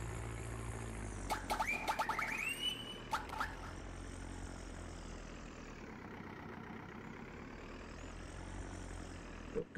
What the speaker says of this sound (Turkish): Çok güzel bir sesi var abi traktörün.